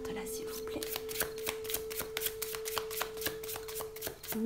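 Tarot cards are shuffled in rapid, evenly spaced riffling snaps close by, continuing for several seconds with a faint steady hum underneath.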